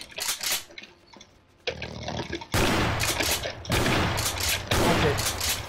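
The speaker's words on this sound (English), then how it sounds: "Oh, it's someone shooting." Gunfire in the Garry's Mod sandbox game, sounding as loud, dense bursts of rapid shots that cut in and out across several seconds, with no talk over them.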